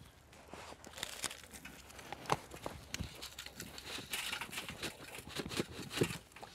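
Sand poured and stirred into potting mix for a potted dahlia, giving a soft, continuous gritty rustle and crinkle with scattered small taps throughout, fairly close and steady.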